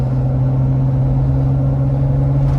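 A vehicle fitted with 513 gears and larger tires drives along, its engine holding a loud, steady low drone with a strong hum and no clear break for a shift.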